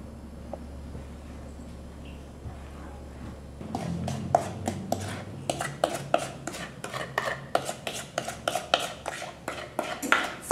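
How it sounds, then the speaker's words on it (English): Dry cookie ingredients with oatmeal flour for chocolate chip cookies are mixed in a bowl. After a few quiet seconds, a steady run of close, quick scraping and clinking strokes follows. "I'm going to mix up the dry ingredients."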